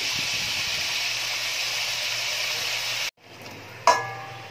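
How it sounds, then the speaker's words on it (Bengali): Four potato pieces fry in a pan, giving a steady loud hiss and sizzle that cuts off abruptly, then a quieter sizzle with a brief clatter near the end. "আলুগুলোকে এবার ভালো করে লাল লাল করে একটু ভেজে নিতে হবে।"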